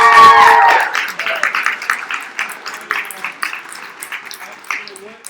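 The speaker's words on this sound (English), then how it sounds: "give Tom a big round of applause" At a running club's annual general meeting, a brief voice gives way to a crowd breaking into steady, fairly close applause that keeps going with uneven bursts of clapping.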